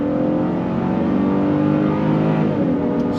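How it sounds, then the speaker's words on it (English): A 2026 Honda Passport RTL all-wheel drive SUV accelerates hard as its 10-speed transmission downshifts, the engine droning steadily and loudly from inside the cabin and rising slightly in pitch, with no talking over it. "On throttle, here we go. 10-speed drops down and we're off."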